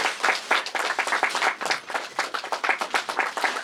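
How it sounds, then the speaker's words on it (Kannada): A crowd claps at the poster launch of the film 1979 The Untold Story. The applause is dense, steady and rhythmic throughout, with no talking over it. "1 2 3 ಚಪ್ಪಾಳೆ ಬರಬೇಕು"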